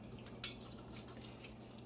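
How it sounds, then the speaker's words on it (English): Water runs from a tap into washed glass canning jars as a faint, soft trickle with small splashy bursts, heard alone and quiet. "And I just fill up my jars with water."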